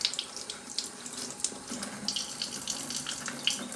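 Warm water runs steadily from a tap into a sink, a continuous close splashing with small bright drips and gurgles.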